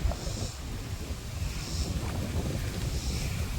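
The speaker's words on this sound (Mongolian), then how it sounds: "Оо ямар гоё салхи вэ." Wind blows outdoors, a steady low rumbling buffet against the microphone that lasts throughout with no speech on top.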